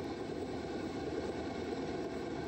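A helicopter in a Minecraft modpack game hums with a steady, dense engine and rotor drone that fills the short moment at an even level, close and with no voices.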